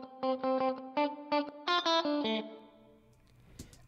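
Electric guitar with extra reverb and a Room Widener stereo-widening plugin plays a short run of plucked notes and chords, then its spacious tail rings out and fades alone.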